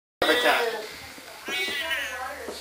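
A cat meows twice in close succession, loud and near, with a breathy tonal cry; people chatter and talk around it indoors.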